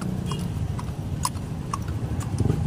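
Horse hooves clip-clop steadily on a street in Tondo, Manila, pulling a kalesa carriage, with a regular rhythm of close, distinct hoof strikes over a busy urban background rumble.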